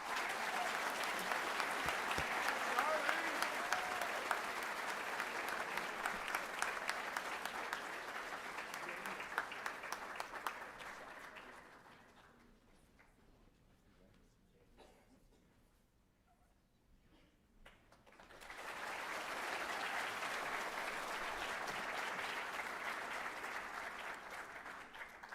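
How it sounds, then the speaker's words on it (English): Audience applause at a middle school 8th grade promotion night fills a hall with steady, sustained clapping, fading briefly before a second long burst of clapping from the crowd. "Let's give a round of applause to Charlie Brown and Daniel Hua."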